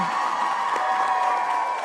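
A crowd cheers and applauds for the winner of a middle managers pitch competition, a steady wash of clapping, whoops and shouts held at even loudness throughout.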